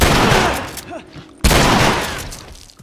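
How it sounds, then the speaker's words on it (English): Shotgun blasts in The Last of Us during a hotel lobby fight, two loud close booming shots with a sharp attack and a decaying tail, separated by a brief lull. "the shotgun is definitely very effective in the near field"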